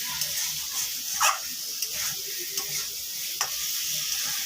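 Boiled eggs in a curry sautéed in a pan give a bright, steady sizzle with several sharp scrapes of the spatula stirring, close up, and faint background sounds underneath.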